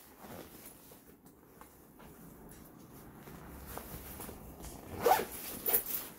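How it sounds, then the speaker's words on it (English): A zipper is pulled closed along the side of a Modoker convertible garment duffel bag, a soft fabric rasp that builds into a couple of louder, quick zips near the end. "And you zip up the other side."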